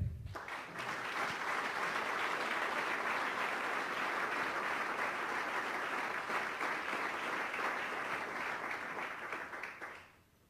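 An audience at a sport-études scholarship ceremony applauds its award winners with sustained, even clapping that swells quickly, holds steady for about ten seconds, then fades out.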